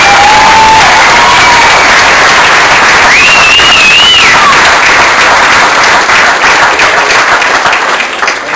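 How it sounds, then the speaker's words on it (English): A room of football players and guests applauds and cheers at a Super Bowl trophy presentation, loud continuous clapping with whistles and shouts rising through it, fading slightly near the end. "Clap yourselves up."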